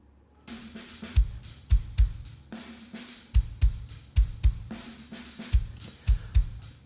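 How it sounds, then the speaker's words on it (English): A parallel drum bus from a post-rock mix, soloed and heavily compressed, pounds out a steady groove of punchy kicks and snare hits with long sustained tails, moderately loud and alone. "So the parallel bus soloed sounds like this."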